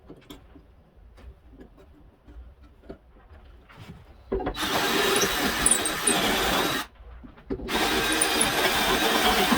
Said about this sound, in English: I need to drill it